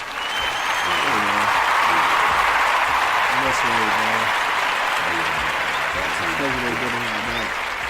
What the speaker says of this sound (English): Let me give Wade a round of applause real quick, man.